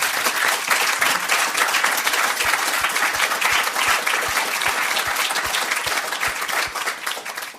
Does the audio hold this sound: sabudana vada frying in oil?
no